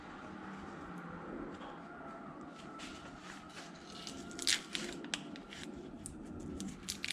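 Trimming and cleaning up a cast bed plate mold with a hand tool, scraping and snipping sounds over a faint steady hum, with sharper crisp cuts clustering toward the end.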